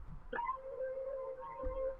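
A dry texture one-shot from the Intention kit plays with no effects. It is a soft, wavering tonal glide that swells in and bends like a distant howl, with faint low thumps at its start and near its end.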